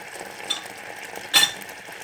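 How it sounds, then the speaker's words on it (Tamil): Apples and country jaggery simmer in a little water in a pan, a faint steady bubbling sizzle with a couple of short louder stirring scrapes. "இந்த நாட்டு சர்க்கரையும் இந்த ஆப்பிளும் நல்லா இந்த மாதிரி வேக வைக்கணும்."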